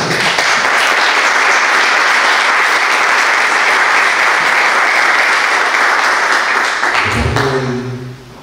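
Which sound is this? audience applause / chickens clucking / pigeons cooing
audience applause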